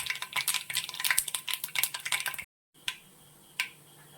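Chopped ginger and garlic hit hot oil with popping mustard seeds and fenugreek, giving a burst of crackling, sizzling spatters and pan clatter, then a brief silence followed by a couple of isolated sharp pops.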